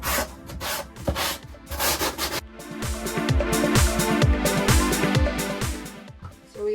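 Wooden edge on a camper being sanded by hand, rhythmic scratchy back-and-forth rubbing strokes, close and moderately loud, with a brief pause before the strokes resume.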